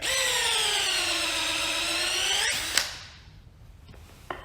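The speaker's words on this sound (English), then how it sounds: "If you really want to punish your cordless drill, this is definitely the way to do it" Cordless drill driving bolts on a rubber snowplow cutting edge, whining under load with its pitch sagging, then cutting off abruptly with a clunk; a faint clatter follows near the end.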